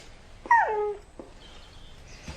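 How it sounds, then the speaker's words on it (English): A stray dog gives a single short, high whimper that slides downward in pitch, followed by faint soft thuds and quiet room tone. "Pollyanna, we are not taking in a stray dog."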